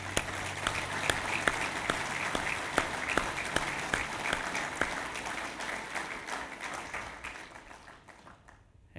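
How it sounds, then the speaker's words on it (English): An audience at a church gathering breaks into sustained applause, dense clapping with a few sharp claps standing out, fading toward the end into near silence. "Let's give all these guys a round of applause."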